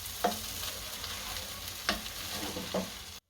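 Stirring and mixing Punjabi poha in a pan, with a few distinct spatula scrapes and clinks against the pan at a slow, uneven pace over a faint steady sizzle.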